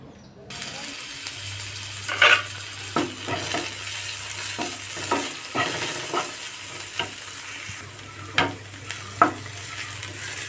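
A tomato is added to a hot pan of roasting breadfruit and jackfruit seeds, producing a continuous close sizzle with frequent scraping stirs and clanks of a spoon against the pan.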